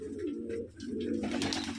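Pigeons coo in an enclosed, dark loft, with close, low rolling calls repeating in quick succession and a brief rustle near the end.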